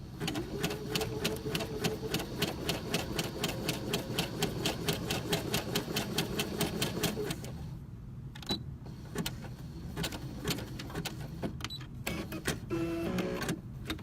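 A sewing machine fitted with an edge joining foot stitching steadily, a rapid even mechanical clatter that runs for several seconds, then stops and restarts in shorter bursts, close and moderately loud.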